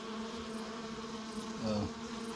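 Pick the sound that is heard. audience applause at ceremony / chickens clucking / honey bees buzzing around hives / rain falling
honey bees buzzing around hives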